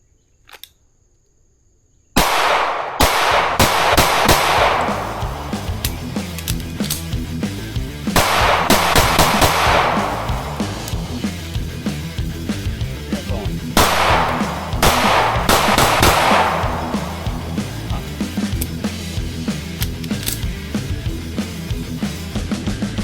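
Rapid strings of loud, sharp pistol shots from a Staccato C2 Monsoon Tactical handgun with a compensator, fired at a target five yards away, come in several quick bursts with short pauses between them, opening after a moment of near silence.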